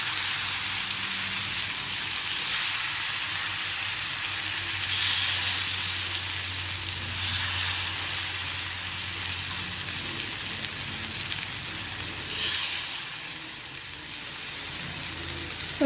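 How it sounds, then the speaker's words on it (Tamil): Paneer cubes frying in butter in a pan, a steady dense sizzle and crackle that holds loud and even throughout with slight swells, no voices. "இப்போது நம்ம பன்னீரை அதில் போட்டோம்."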